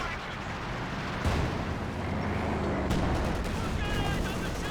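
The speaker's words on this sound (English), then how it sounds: "We've now got the Brumbi barrage in there." A Brummbär artillery barrage in the Company of Heroes 2 war game rolls on as a dense, continuous wash of blasts and gunfire, with sharper impacts at intervals and a voice talking underneath.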